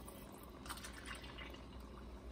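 Water pours and splashes into a pot while cooking chicken biryani, a soft, quiet trickle heard alone and close.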